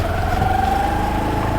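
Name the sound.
scooter engine while riding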